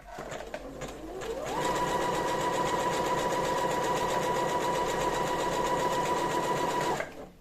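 A sewing machine stitches a bra, ramping up over a second to a steady, even whir that holds for several seconds before stopping abruptly.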